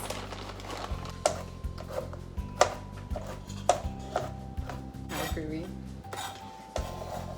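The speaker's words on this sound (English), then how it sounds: "Get those pecans in the bowl." Whole pecans are added to a bowl of oats for granola, with repeated clinks and taps of a spoon or scoop on the bowl and light rattling over a steady low hum; no speech.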